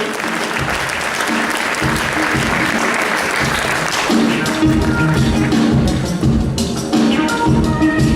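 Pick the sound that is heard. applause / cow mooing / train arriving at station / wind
applause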